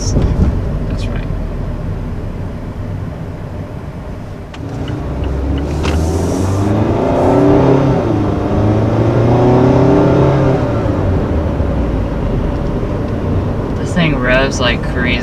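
A 2019 Mazda MX-5 Miata on the road, its engine revving up strongly and climbing through the gears, loud and close from inside the cabin, with voices talking over parts of the drive.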